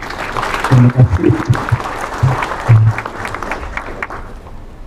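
Audience clapping at a university graduation ceremony, a loud burst of applause that swells and then fades while someone speaks briefly over it.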